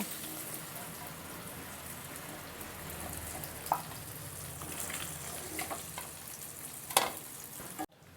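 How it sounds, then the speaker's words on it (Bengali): Pieces of catla fish fry lightly in hot oil, giving a steady close sizzle with a few sharper pops and crackles and no speech. "এইভাবে আমি সমস্ত মাছগুলোকে ভেজে নিচ্ছি।"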